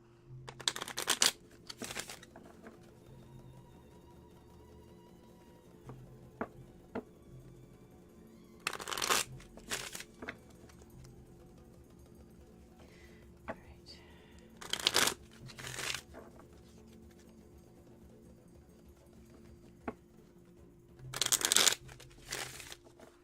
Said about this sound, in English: Doing 7 shuffles.